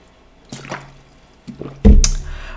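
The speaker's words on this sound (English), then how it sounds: "I gotta drink some water too." A person takes a couple of gulps of water, close and fairly loud, with wet swallowing and a small clink near the end.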